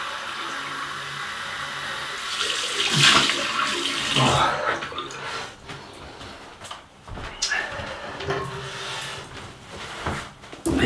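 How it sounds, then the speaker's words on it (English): Cold tap water runs for a rinse after a shave with Wickham's Russian Leather soap, a steady close splash that changes as hands move through the stream, with brief breaks and clatter. "Cold water, come on. Cold water rinse."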